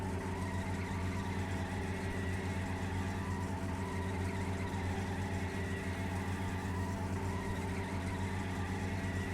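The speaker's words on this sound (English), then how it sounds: "I'm throttling in the fourth gear, and I'm just at 80 kilometers" A car engine at full throttle in My Summer Car, fourth gear at about 80 km/h on worn tires: a loud, steady droning hum that holds one pitch throughout, with no other sound.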